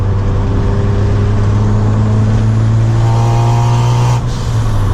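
A Mazda RX-7 FC3S with a rotary engine runs steadily and loudly nearby, holding a constant low idle drone with a slight rise in pitch near the end, and no voices over it.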